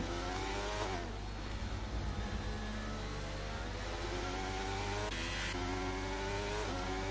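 Race cars in an F1 video game race at Interlagos, Brazil, with steady high engine whine rising through the gears and a few upshift dips, close and continuous with no talk.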